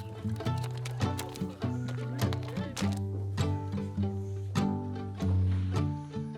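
Several horses' hooves clop irregularly on a hard surface as they are led to a training barn at a horse shelter, mixed with scattered thuds and a faint whinny, moderately close.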